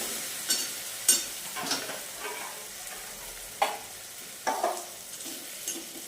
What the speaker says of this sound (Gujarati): આ જો હવે થોડું શેકાઈ ગયું છે એટલે પાલક એડ કરી દઉં.